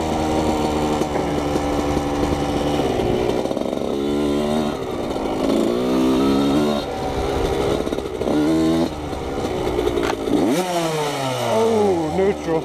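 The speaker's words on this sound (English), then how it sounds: "you just gotta rev it up too high to get it to come up" A Yamaha YZ125 two-stroke dirt bike engine screams at high revs, the pitch climbing and falling in repeated throttle blips before a sharp rev-up near the end. It stays loud and close throughout.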